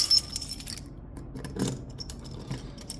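A key works the lock of a motorcycle side case on a Kawasaki Versys 1000, with faint metallic jingles and clinks and a small click, close and quiet.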